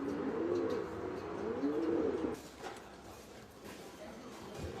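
Racing pigeons cooing in a loft where each bird has its own room, low repeated throaty coos close by for a couple of seconds, then fainter bird chirps and soft rustling.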